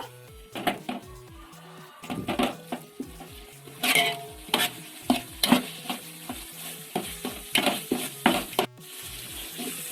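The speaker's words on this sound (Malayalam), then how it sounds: "ഒരു മിനിറ്റ് ഒന്ന് നന്നായിട്ട് ഇളക്കി കൊടുക്കുക" A spoon stirs masala with chili powder in a pan for meat rice, scraping and clattering in irregular bursts over a soft sizzle, close and fairly loud.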